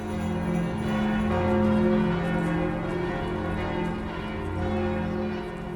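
Church bells peal across a city, their ringing tones overlapping into a dense, sustained wash of sound that swells and fades slightly, loud and continuous with no talking.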